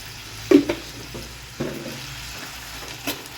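Tomatoes and onions sautéing gently in a pan with turmeric and salt, with a soft background sizzle broken by a few scraping stirs of a spoon against the pan.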